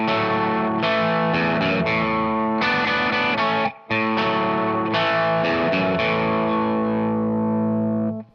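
Distorted electric guitar plays the intro riff of a song in A, with double stops: loud chorded strums and sustained ringing notes, one brief break near the middle, no talking.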